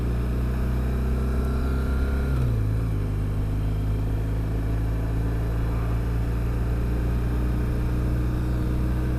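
Steady motorcycle engine drone cruising west on Highway 40 in warm spring weather, continuous and close with a low rumble, a brief pitch drop around the middle suggesting a gear change, no talk.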